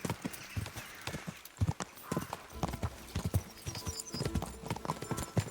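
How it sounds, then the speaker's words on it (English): Hooves of a galloping horse in Kingdom Come: Deliverance II clatter in a quick, uneven clip-clop rhythm, fairly quiet and steady, with faint ambient noise around them. "his horse is faster than mine by a lot"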